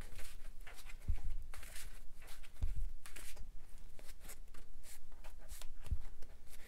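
Sleeved playing cards being shuffled up close, quick repeated riffling and flicking bursts with soft taps, no talking.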